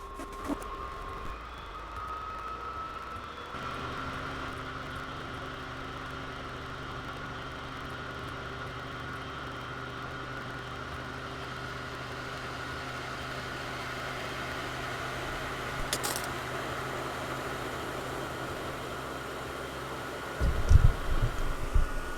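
A Wallas XC Duo diesel cooker/heater runs inside a van, giving a steady, continuous mechanical hum with a faint whirring fan tone that holds evenly throughout, with a couple of brief knocks near the end.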